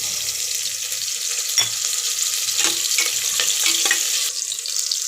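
Onion with bay leaf, fennel, cinnamon, clove and pepper sizzling in a hot pan for tomato bath, a steady close frying hiss with a few stirring clatters and no talk.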